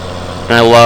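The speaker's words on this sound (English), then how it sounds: "I love this tractor going up a hill and under a load" A steady video-game tractor engine drone in Farming Simulator 17 that suddenly revs up and strains louder climbing a hill under load, with a rising and falling pitch.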